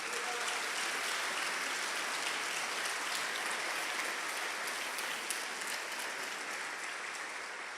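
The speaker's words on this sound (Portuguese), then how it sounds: "dá um aplauso bem lindo para o Senhor" Sustained applause from a church congregation, dense and even, loud and continuous for several seconds with no voices over it.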